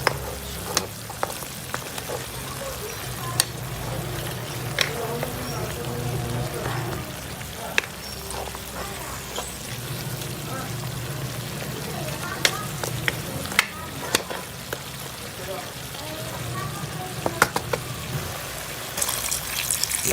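Food sizzles and crackles steadily in a pot while a utensil stirs and scrapes through it, with occasional clinks against the side.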